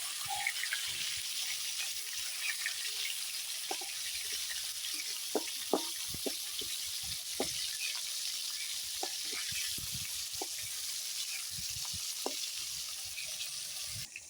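Rohu fish pieces fry gently in oil, a steady soft sizzle laced with frequent small pops and crackles throughout, fairly close, with no talking.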